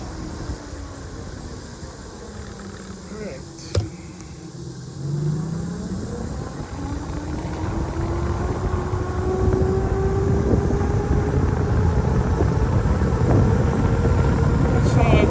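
Electric bikes, a Huck Rebel 2000 or an Onyx RCR, riding and climbing an incline, with a motor whine that rises steadily in pitch and loudness over road rumble and wind, plus a brief knock partway through.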